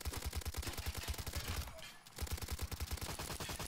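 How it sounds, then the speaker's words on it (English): Rapid automatic gunfire from a gun in the video game Afterlife, a dense rhythmic burst that pauses briefly in the middle before resuming, loud and continuous. "I don't know why my gun keeps changing sounds."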